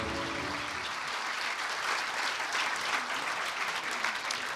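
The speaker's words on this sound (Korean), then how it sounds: "귀중한 말씀해 주신 대통령님께 다시 한번 뜨거운 박수 부탁드립니다" An auditorium of senior government officials at a workshop gives the Korean president a warm round of applause: thick, sustained crowd clapping, steady and fairly close throughout.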